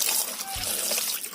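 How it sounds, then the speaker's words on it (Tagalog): Water trickles and splashes over fresh danggit fish in a kitchen, a soft continuous pour with a brief deeper slosh midway, under a faint background hum. "lagyan po natin ng tubig."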